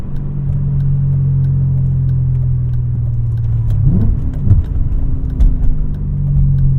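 A 2001 BMW E39 M5 runs with a deep, steady engine and exhaust drone close by. Partway through, the revs rise and fall in a few uneven surges before the engine settles back to a steady note.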